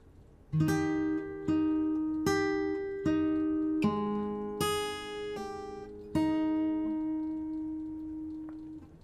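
A fingerstyle acoustic guitar passage, clean plucked notes and chords struck one after another at an unhurried pace, each ringing out and decaying, played close and alone.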